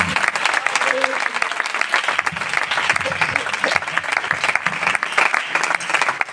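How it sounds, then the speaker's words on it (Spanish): Church congregation in Mieres applauding together in a dense, steady wave of clapping that runs throughout, with voices mixed in under the applause. "Fuertes aplausos para el Señor"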